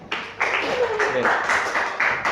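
A classroom group claps in applause for the first student group, a steady patter of hands lasting a couple of seconds, with a teacher's voice speaking over it.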